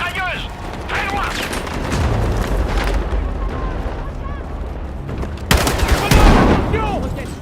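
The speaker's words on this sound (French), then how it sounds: "Une mitrailleuse!" Battlefield 6 gunfire with bursts of machine gun fire and booming explosions, a dense, continuous battle din with a louder blast near the end, heard over in-game chatter.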